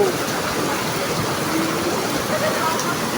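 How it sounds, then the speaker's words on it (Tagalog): Heavy rain pours steadily on an evening in a thunderstorm, a dense, continuous hiss holding even loudness throughout, with faint voices mixed underneath. "Grabe naman lakas ng ulan."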